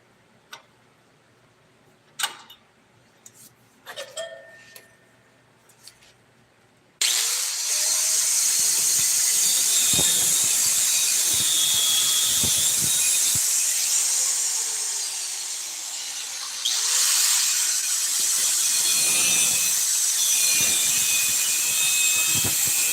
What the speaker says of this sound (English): Let's just start with cutting these pins off real quick.